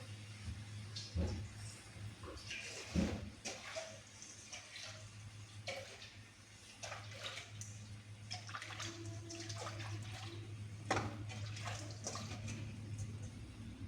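Fish pieces washed by hand in a bowl of water, soft splashing and sloshing that comes and goes, with a few louder swishes, faint and close, under a steady low hum.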